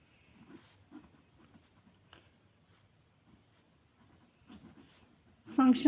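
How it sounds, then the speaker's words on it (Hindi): Marker or chalk scratches on a board during a chemistry lesson come in short, quiet strokes at an irregular pace, with a teacher's voice briefly heard near the end. "लिख देती हूँ उधर"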